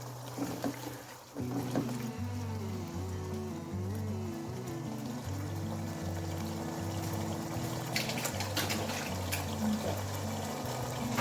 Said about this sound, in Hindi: आधा गिलास पानी डाल रही हूँ इनको गलने के लिए।